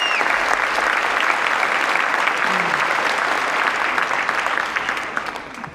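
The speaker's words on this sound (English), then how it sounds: "Give her a huge round of applause." Audience applause at a Philadelphia mayoral inauguration ceremony, a dense, loud crowd of clapping sustained for several seconds before tapering off near the end.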